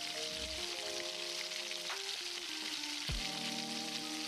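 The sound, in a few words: chopped garlic frying in hot oil in a wok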